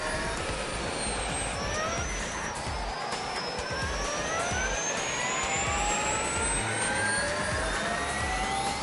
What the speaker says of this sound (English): Driving a jet engine.